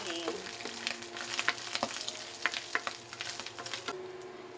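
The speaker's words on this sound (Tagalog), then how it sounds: "Medyo nagmamantika na ang ating giniling." Ground pork giniling frying in oil crackles and sizzles close by, with irregular popping bursts over a steady hiss and a few stirring scrapes.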